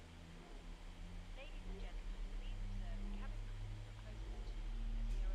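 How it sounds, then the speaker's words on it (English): Airbus A320 engine spooling up in the Fenix flight simulator, a low steady whine and hum building gradually and growing louder toward the end, with a voice speaking over it. "Let's hear this nice engine starting. The best sound on the sim."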